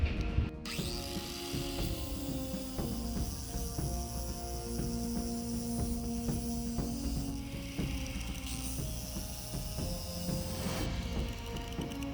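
A power sander with a flat disc grinds a boat hull in a boat yard, its motor whirring continuously with rough, rattling scrapes as the disc works the surface, close up and with no talking.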